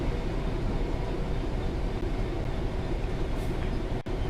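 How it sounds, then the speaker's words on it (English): A Class 66 diesel locomotive in the Train Sim World game hauls a rail head treatment train, giving a steady, loud rumbling drone of engine and wagons with a brief dip near the end. "But the Class 66 is the provided example"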